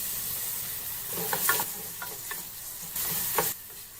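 Red onion fries in hot oil in a pan, a close steady sizzle with several brief stirring scrapes and clinks rising above it.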